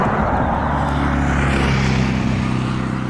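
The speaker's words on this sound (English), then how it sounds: "the odd car going by, because it is literally right next to the road" A car passes on the road beside an airfield, a broad steady engine-and-tyre rumble swelling slightly and holding close and loud throughout, with wind noise mixed in.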